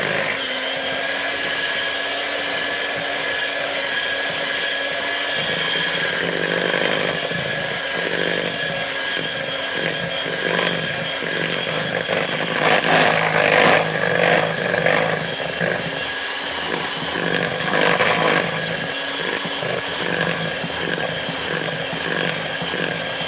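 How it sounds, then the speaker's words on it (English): A stand mixer beating vanilla cupcake batter, a loud steady motor whine with rattling that rises in the middle, running continuously with no talk. "Stand-up mixer too."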